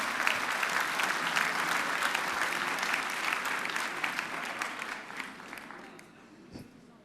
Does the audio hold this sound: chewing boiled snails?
no